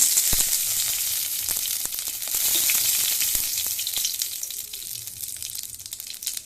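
Cumin seeds and bay leaf frying in hot oil in a kadai, a dense continuous sizzle with scattered crackles and occasional stirring knocks, close and steady.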